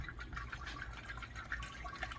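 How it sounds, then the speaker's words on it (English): Distilled water pours steadily into a vehicle's coolant reservoir until it overflows, a continuous liquid gurgle and splash held at moderate level throughout. "And now we throw in our distilled water until she overflows."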